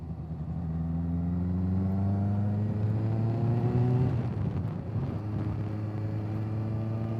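A Kawasaki ZX6R motorcycle engine hums steadily and climbs in pitch, then drops sharply at a gear change and pulls on again, loud and close with no speech.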